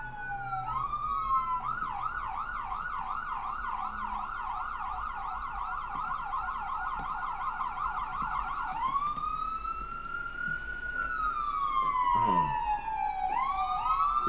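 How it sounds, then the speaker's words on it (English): An ambulance siren passes near a hospital, a rapid warbling yelp cycling steadily for several seconds before shifting to a long rising-and-falling wail, loud and fairly close over faint traffic. "that's an ambulance"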